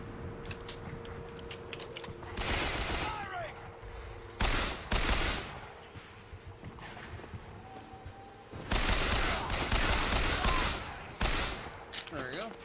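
Repeater gunfire in Bioshock Infinite, several loud rattling bursts separated by quieter stretches, mixed with scattered game noise and someone talking at times.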